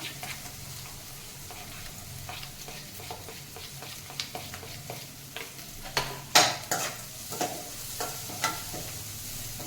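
Turmeric and onion frying in a pan for upsaru, Karnataka-style bassaru, with a low steady sizzle under scattered scraping stirs, a few sharper clinks and scrapes near the middle, no talking.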